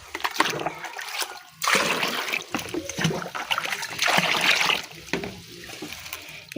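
Radish leaves are washed by hand in water, with close splashing, sloshing and dripping in uneven bursts, loud and near, while someone talks quietly in between.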